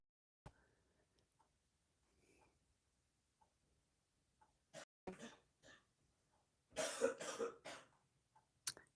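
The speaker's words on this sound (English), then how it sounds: "so he's coughing and hacking. Yeah, you can still hear him even with the headphone." A sick man coughs and clears his throat in the background of a room, giving several short, sharp bursts of hacking spread through the stretch. The coughs are faint at first, and a louder cluster of them comes near the end.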